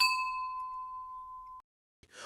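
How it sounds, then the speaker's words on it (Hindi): A single temple bell struck once rings out with a clear, pure tone that slowly fades, then cuts off into silence before a brief rustle. "दूसरी घंटी बजी"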